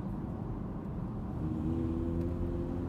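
An Audi R8 V10 convertible engine holds around 3000 rpm after a few gear changes, heard from the cabin as a low, steady rumble that swells into a firmer droning tone partway through.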